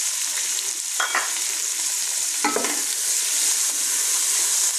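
Boiled carrots are stirred and cooked in a pan for white sauce pasta, giving a steady frying sizzle with a couple of distinct spatula scrapes and stirring sweeps; no one speaks.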